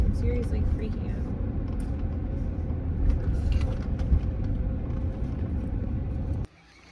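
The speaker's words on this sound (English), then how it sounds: "We're still driving past the gas stations." A car driving along a county road in Wyoming gives a steady, close interior rumble of engine and tire noise for several seconds, with faint background voices, before cutting off abruptly near the end.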